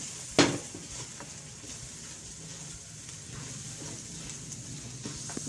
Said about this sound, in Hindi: मसालों की मैं अच्छी तरीके से भुनाई कर लूँगी।